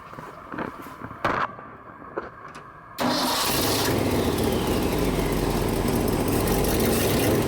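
A Ford F-600 dump truck engine cranks with a few short bursts, then catches at about three seconds and settles into a loud, steady idle that runs to the end, close by.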